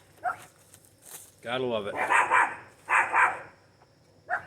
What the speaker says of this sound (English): They're gonna bark now.